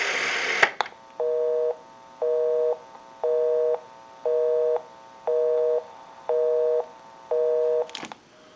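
A rapid series of eight short, evenly spaced electronic tone bursts, like phone keys being dialed, loud and close, with a click at start and end.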